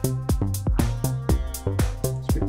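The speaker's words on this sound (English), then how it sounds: "I've added in this track here just a little simple synth line, which is a hype synth preset" A simple Hype synth preset line played on an Akai Force, its harmonic-rich notes struck in a steady repeating pattern with short attacks and sustained tails, loud and alone.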